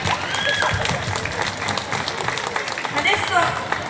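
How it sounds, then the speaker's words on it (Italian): At a music festival, an audience applauds young children performers with sustained, dense clapping while people chat and call out close by. "Applauso a questi bimbi che sono stati bravissimi."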